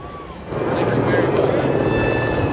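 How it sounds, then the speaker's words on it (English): A NASCAR stock car engine starts up outdoors at a racetrack pit road, a quiet lead-in followed by a sudden, loud, steady rumble that continues, with voices over it. "Petty, start your engine."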